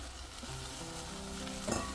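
Rice tossed into a hot pan sizzles and fries quietly, with soft scraping stirs throughout and a brief louder clatter near the end; no voices.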